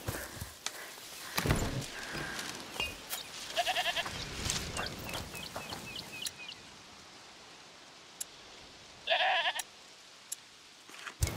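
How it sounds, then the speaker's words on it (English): Goat bleating in the video game A Plague Tale: Requiem, several short bleats scattered among footsteps and rustling, with a clear louder call near the end. "Is that the goat he talked about?"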